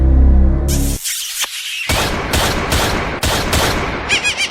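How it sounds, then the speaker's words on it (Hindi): Gunfire in a hot-weather night setting: a low hum gives way to a rapid series of loud, sharp gunshot cracks in quick succession, with a dense burst at the end. "ये गोली की आवाज है"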